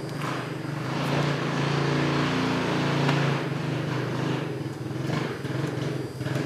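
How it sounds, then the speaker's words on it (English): A small engine that sounds like a crappy dirt bike, a rough buzzing drone running close and fairly loud throughout, its pitch and level wavering slightly as it revs, with no voices over it. "Sound like a crappy dirt bike."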